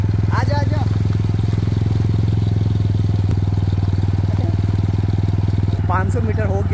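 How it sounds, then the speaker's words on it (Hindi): A motorcycle being ridden on a hill road produces a loud, steady, throbbing engine drone throughout, while voices call out briefly near the start and again near the end. "हम लोग अभी बाइक से जा रहे हैं और ऋषि को पीछे भगा रहे हैं"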